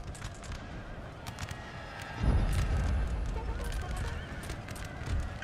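Horse guard cavalry in a Napoleon Total War battle, horses whinnying amid clattering hooves, then a heavy thundering rumble surges in midway and lingers, with a voice talking over it.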